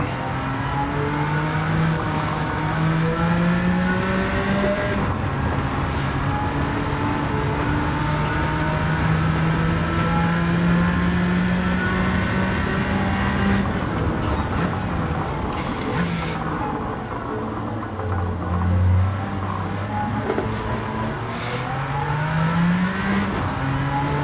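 A 1992 Jaguar XJ220 laps Monza in Gran Turismo 7, its engine droning loud and steady with rising and falling revs through gear changes, joined by other hypercars racing close by.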